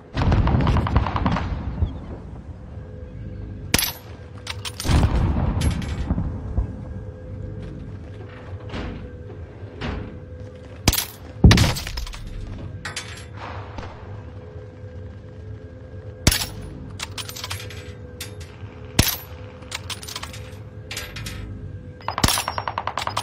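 Scattered gunshots and short automatic bursts in a Warzone match, sharp cracks spread irregularly over a steady low game ambience, some shots close and loud, others more distant.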